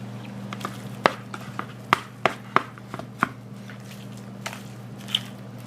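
Pulled pork roast cooked on a Big Green Egg is torn and shredded by hand, giving soft irregular squishy taps and tearing clicks over a steady low hum.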